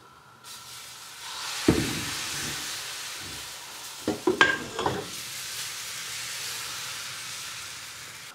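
A seasoned mixture sizzles steadily in a heated frying pan, the hiss broken by a few louder scraping and stirring sounds near the middle, with no talk.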